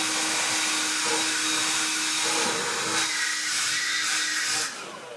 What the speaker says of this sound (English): If you can get your blower on here and just blow off in there.